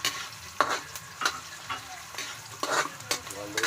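Onion and ginger sauté in a pan, a soft sizzle broken up by repeated sharp scraping strokes of a spatula at an uneven rhythm, close and fairly quiet.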